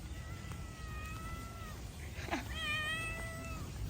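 A neighbour's cat in a residential lane gives a few drawn-out, fairly close meows, with a longer wavering call near the end over quiet background noise.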